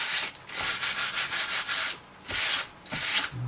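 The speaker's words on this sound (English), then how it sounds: "just go over it with a soft cloth, and that will just take any paint or ink" A soft cloth rubs briskly over an embossed card to lift paint or ink, making close, rhythmic swishing strokes in quick bursts with short pauses between, with no talking.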